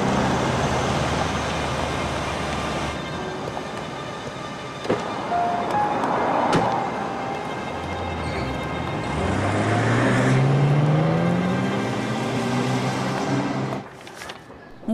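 A car engine running steadily inside a moving car, a continuous low hum with rising and falling tones as it shifts, fairly close, no talk over it.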